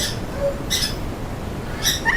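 Two sharp, shrill squawks from a male Congo African grey parrot, spaced about a second apart, loud and close, over a quiet background hiss.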